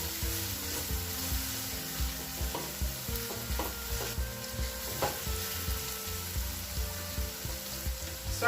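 Finely cut carrots and capsicum sizzle in a hot pan for Veg Manchurian, with steady frying hiss and rhythmic stirring scrapes recurring about once a second, close and moderately quiet.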